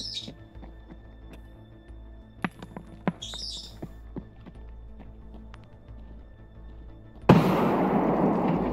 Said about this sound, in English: Gonna lob a grenade.